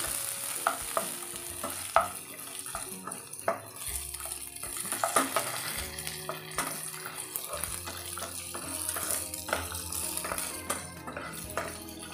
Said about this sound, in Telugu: ఒక టీ స్పూన్ నువ్వులు వేసుకొని ఇలా చక్కగా వేయించుకోవాలి